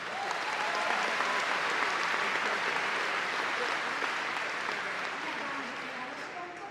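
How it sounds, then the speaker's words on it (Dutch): A large audience applauds a school band from ROC Friesepoort at a Frisian vocational skills championship event, broad and continuous clapping that tapers slightly near the end. "mag ik eerst een daverend applaus voor de schoolband van het ROC Friesepoort"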